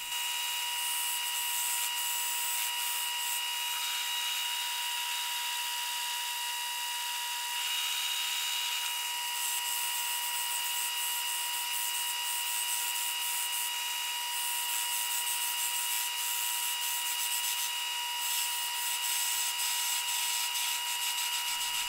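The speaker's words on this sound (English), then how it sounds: "I got a bit too aggressive with my parting tool here and stalled the lathe" A wood lathe with a parting tool cutting into a small wooden chess piece, a steady high-pitched whine and scraping rub running continuously and close, with no talking.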